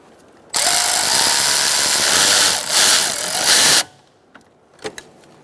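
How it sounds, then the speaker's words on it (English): A power driver whirs steadily for about three seconds, tightening the upper radiator hose clamp on a 2004-2009 Mazda 3, then stops, followed by a few faint clicks and taps. "you're going to tighten your clamp"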